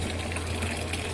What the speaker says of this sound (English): I'll manually open the water feed and introduce fresh water into it